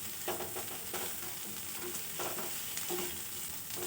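Potatoes frying in a pan are stirred with a steady low sizzle, and scraping stirs come through at irregular moments. The sound is close and fairly quiet, with no voices.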